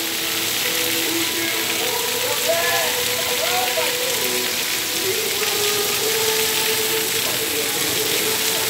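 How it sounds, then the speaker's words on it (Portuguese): Steady heavy rain in Fortaleza, Brazil hisses continuously, dense and even, with faint mechanical tones underneath. "muita chuva aqui em Fortaleza"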